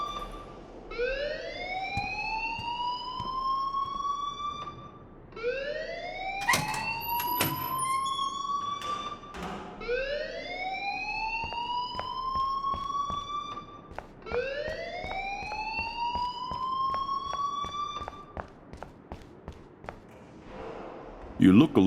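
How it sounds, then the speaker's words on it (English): A fire alarm in the video game Life is Strange wails in a repeating rising sweep, roughly five cycles of a siren-like tone, loud and continuous with clicks and brief noises scattered over it. "please turn off that alarm since that's your job"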